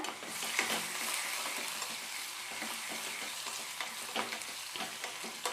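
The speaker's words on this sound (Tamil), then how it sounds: "அந்த பூண்டு எண்ணெயில் நல்லா வெந்து வரணும் அந்த அளவுக்கு நல்லா வதக்கிக்கோங்க" Garlic, fenugreek and dried chillies sautéing in hot oil for a Tamil pepper rasam, giving a steady close sizzle with scraping stirring strokes throughout and no voices.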